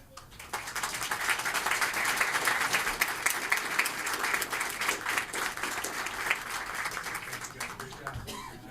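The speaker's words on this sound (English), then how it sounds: "how about a round of applause?" An audience at a school board of education meeting breaks into a round of applause, dense steady clapping that swells within a second, holds for several seconds and tapers near the end.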